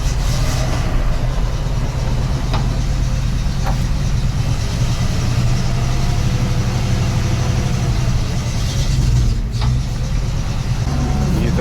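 A heavy Soviet truck fitted with a V8 engine idles steadily and loudly throughout, a deep rumbling drone with a couple of faint clicks over it.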